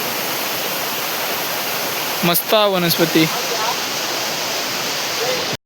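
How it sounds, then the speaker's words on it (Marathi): A waterfall in the Konkan jungle pours with a steady, close, broadband roar throughout, and someone speaks briefly over it midway. "मस्त धबधबो दाखवते तुमका"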